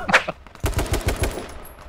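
Automatic gunfire in the battle royale video game H1Z1 King of the Kill: a rapid burst of loud, close shots after a brief sharp sound, then trailing off.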